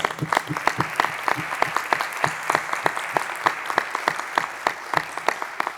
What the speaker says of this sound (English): If we could give them one collective round of applause